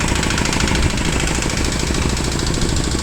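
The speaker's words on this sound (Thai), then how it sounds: "ยนต์ก็จะเป็นเครื่องยนต์เก่านะครับ ฟังจากเสียงมันจะดังนะครับแจ๊กแจ๊กแจ๊กแจ๊กแจ๊กแจ๊กนะครับ" An old engine on a lawn-mowing tractor runs close by with a loud, steady, rapid knocking chug that continues without a break.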